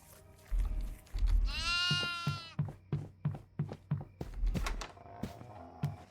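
A goat gives a loud, shaky bleat, surrounded by a run of sharp thumps and clatters like hooves or steps, with fainter background noise and no talking.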